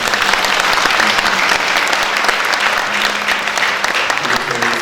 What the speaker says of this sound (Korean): 격려의 박수 감사의 박수